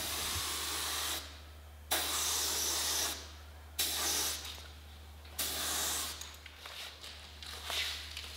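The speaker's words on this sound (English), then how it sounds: "Spraying a rich clear coat" Four long bursts of airy, high hiss from a spray gun spraying clear coat, each lasting about a second or two, separated by short pauses, with a steady low hum underneath.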